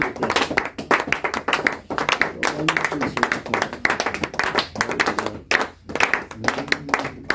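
A church congregation claps in praise during a French-language worship service, a steady dense patter of many hands filling the room with continuous applause.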